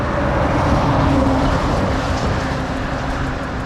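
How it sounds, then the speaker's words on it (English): Car passing on a forest-lined highway in rural Washington, a loud, continuous roadside roar of tires and wind that slowly eases off, heard close from the shoulder. "Car."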